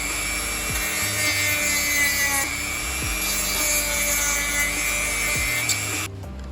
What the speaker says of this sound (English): I gotta shave down just with the Dremel a little bit